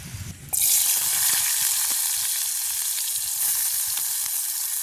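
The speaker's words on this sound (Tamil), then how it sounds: "வெங்காயம் தான் முதல் பொரிக்க போகிறோம்" Onions drop into hot oil and a loud, steady sizzle starts at once, crackling continuously close by with soft stirring sounds beneath.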